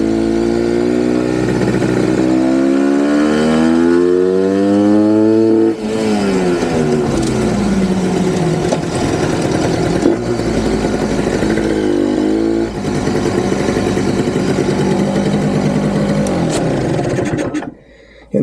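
Gilera SP02 motorcycle engine running loud and close, revving up and down in long rising and falling sweeps while struggling to climb in revs, with no talk over it.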